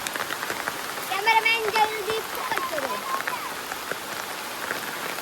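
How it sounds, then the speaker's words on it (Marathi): Heavy rain pours down with a dense, constant hiss while people talk and call out over it. "पाऊस आला जोरात"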